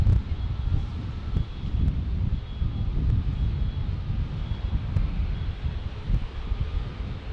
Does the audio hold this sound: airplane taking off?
yes